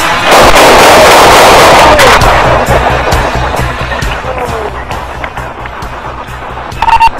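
A single loud gunshot is fired at a knife-wielding subject during a police confrontation. The sharp blast is followed by a long decaying outdoor echo, and a few fainter knocks come near the end.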